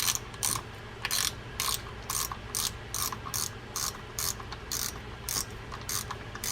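Ratcheting clicks from a Penn Slammer 560 fishing reel being tightened down, crisp close bursts of rapid clicking repeating in a steady stop-start rhythm with short pauses between turns.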